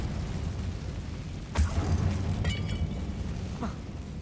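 Incendio fire spell cast in Hogwarts Legacy: a sudden whooshing burst that flares up and crackles for about a second, followed by a second smaller flare, over a steady low game background.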